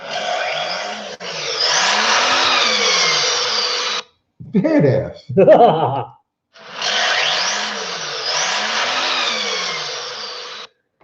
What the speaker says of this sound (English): Here's the sound of the Turbo 6 in that truck.